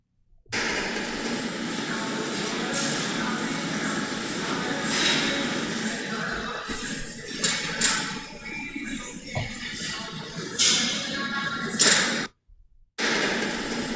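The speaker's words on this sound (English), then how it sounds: "So this is the atmosphere in my gym." Gym ambience: a loud, steady droning roar with faint clanks and muffled voices underneath. It cuts out briefly near the end.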